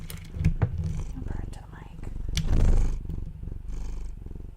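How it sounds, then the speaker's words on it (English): A cat purring close to a microphone during a home study livestream, a low rhythmic rumble running through the clip while a person talks softly over it. "I don't know if you guys can hear him purring."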